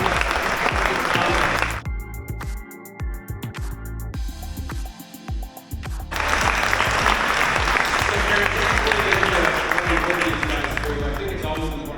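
A crowd at an innovation award gala claps loudly, then music with a steady beat cuts in and the applause swells again over it, dense and sustained to the end.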